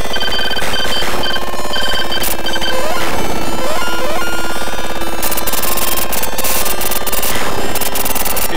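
Dense, busy MIDI music and sound effects from a QBasic space game, playing loud and continuous with clashing tones and rapid rattling, gunfire-like bursts.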